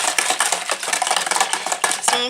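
A spoon stirs sugar into curdled-milk yogurt in a bowl, giving rapid, close, continuous clinking and scraping in a busy irregular rhythm.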